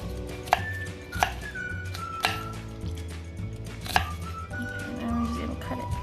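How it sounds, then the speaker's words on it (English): A knife slices half an onion on a cutting board for traditional Asian egg rolls, giving several sharp, close chops at uneven intervals over a low background hum, with no talking. "we're just gonna get half of our onion. We're just gonna slice it just like this"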